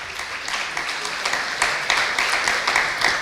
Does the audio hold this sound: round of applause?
yes